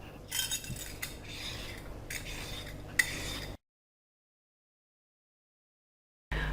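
Carrots being peeled and potatoes sliced for a beef roast in an Instant Pot: a few quick scraping strokes in a steady rhythm, close and clear, then a long silence.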